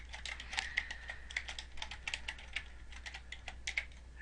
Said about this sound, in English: all I have to do that is simply type in a column header